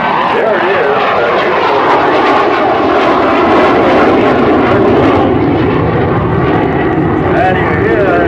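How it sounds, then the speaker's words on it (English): A MiG-17 jet with its afterburner lit roars past at an air show, a loud, sustained engine rumble and rushing noise throughout, with a voice talking over it. "you hear and see the flickering red flame from the afterburner there as Bill rolls it completely over"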